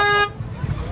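A car horn blares loud and close for a quarter second at a street protest against low-emission zones, then gives way to rumbling traffic.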